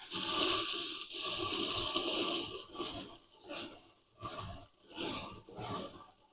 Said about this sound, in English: let me do one more shuffle for you here